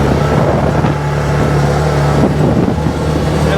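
Odes Massimo 1000cc X4 UTV with a CVT drives down a road, its engine giving a steady, loud drone with a low hum and some wind rumble throughout.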